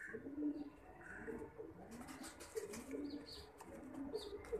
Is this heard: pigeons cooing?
yes